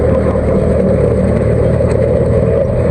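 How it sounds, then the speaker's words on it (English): A tractor-driven grass tedder with spinning rotors flicking cut grass gives a loud, steady mechanical drone with an engine hum, continuous and close with no pauses. "This machine here, it's flicking round. You see these rotors spin around and flicks the grass up"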